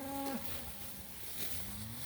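Cattle moo on a hunting landowner's farm during a mob-grazing move, one low drawn-out call and a fainter second moo close by, with no talk.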